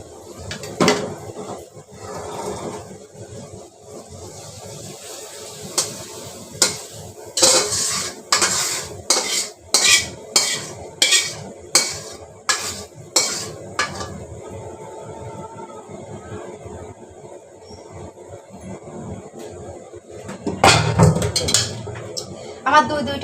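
Cooked prawns fried with onion are tipped from a pan onto a plate, with a string of sharp metallic scrapes and clinks of utensil on cookware, louder clatter near the end, while a person speaks intermittently.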